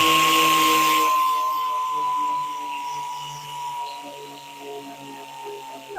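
A wood lathe spins a turning while it is friction sanded: a breathy sanding hiss in the first second over a steady, close motor whine with sustained tonal hum, which then settles into a quieter, even drone.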